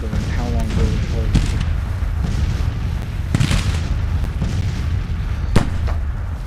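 Artillery booms sound across a battlefield in the Civil War strategy game Grand Tacticians, with scattered thuds and sharp reports standing out over a dense, continuous rumble of battle noise.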